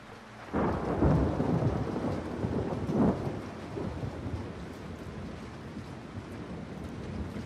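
A thunderstorm in The Last of Us 2, with a heavy rumble of thunder rolling in, a second crack after a few seconds, and steady loud rain and wind continuing throughout.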